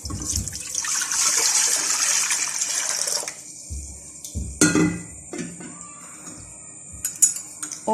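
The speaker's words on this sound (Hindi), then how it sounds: "अब इसमें 1 जग पानी ऐड करेंगे" Water splashes and pours into a metal pressure cooker on the flame for a few seconds, followed by quieter clinks and knocks of cookware.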